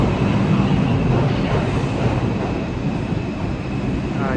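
A New York City subway number 5 train pulls into Brooklyn Bridge station, a steady loud rumble and roar of wheels on rail filling the platform without pause.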